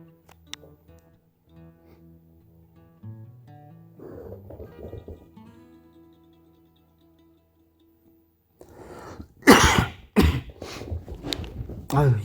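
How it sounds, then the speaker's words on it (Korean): A man coughs several times in a row, loud and close, during a voice-over recording for a DIY miniature landscape build, after quieter throat sounds and background noise. "더빙 할 때는 꼭 이렇게 기침이 납니다."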